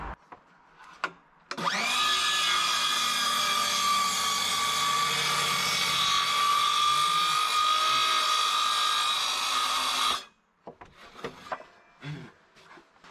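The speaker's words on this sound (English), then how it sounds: "trim the round on the bandsaw" A bandsaw trims the round edge of a redwood slab, a steady loud whining cut of about nine seconds that starts and stops abruptly, with small knocks of handling before and after.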